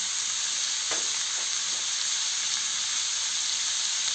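Ginger, garlic, green chili and curry leaves sizzle in a hot pan for an egg curry, with a loud, continuous frying hiss and a few faint stirring scrapes.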